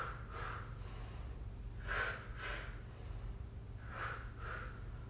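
Soft breaths, inhaling and exhaling through a body-burn workout, appearing as a few faint, brief airy puffs in pairs over a low background hum.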